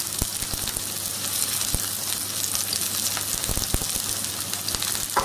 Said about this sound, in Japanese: ちょっと油は普段何か焼いたりするときよりかは多めの油で焼いてます